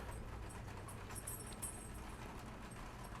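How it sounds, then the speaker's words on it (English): A far-off train rumbles low and faint in the distance, a steady drone under rainfall, with no talk. "That train is way off in the distance."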